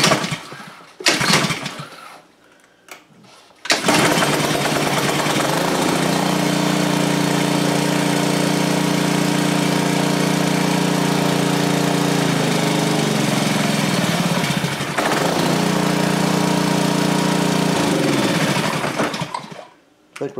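Honda GCV160 engine on a Ryobi pressure washer pulled into life after a couple of brief cranks, then running loud and steady with a buzzing drone, dipping briefly midway before carrying on and cutting out near the end.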